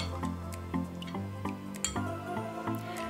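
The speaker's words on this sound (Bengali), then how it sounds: "তেঁতুলের মার দিয়ে দিচ্ছি 2 টেবিল চামচ।" Tamarind pulp spooned into jaggery water for a sweet-sour tamarind drink, heard as soft wet plops and drips with light squishing, close and quiet, unaccompanied by speech.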